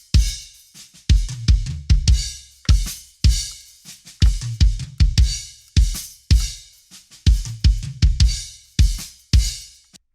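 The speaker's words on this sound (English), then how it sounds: "So that's my kick configuration, and it sounds like this." A processed kick drum from a mix, EQ'd to carry both lows and highs, thumps alone in a steady repeating pattern of close, punchy hits with short gaps between them.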